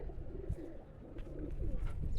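Soft, low pigeon coos and faint fluttering near at hand over a muffled rumbling background.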